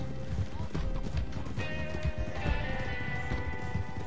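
Horse hooves clatter in Red Dead Redemption Online, quick repeated clip-clops over a continuous music bed, with a brief voice faintly in the background.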